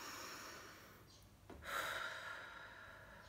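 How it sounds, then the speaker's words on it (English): Slow, deep breathing in a quiet setting during a guided relaxation session: a soft inhale swells midway through, followed by a gentle, faint exhale, with no talking. "so let's just take some deep breaths."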